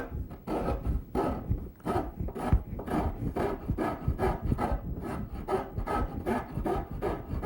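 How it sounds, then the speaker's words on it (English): A rasp shapes wood along the grain in chairmaking, with steady back-and-forth strokes giving a dry, coarse scraping rhythm, close and continuous with no talking. "that's when we go to a rasp, and that solves that problem"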